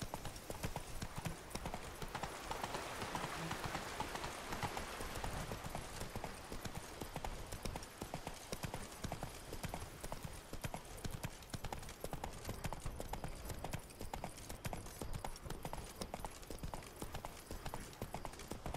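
Hooves of Geralt's horse Roach clip-clop in a steady, continuous rhythm across the countryside of Toussaint in The Witcher 3: Blood and Wine, quiet and even throughout with a faint ambient wash.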